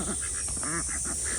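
Ducks at a backyard pond give a few short nasal quacks, faint against a steady high hiss of running water or background noise.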